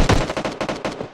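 Loud bursts of automatic gunfire in the mobile shooter PUBG Mobile on Android, about seven quick shots in an even rattling rhythm, close and with no talk.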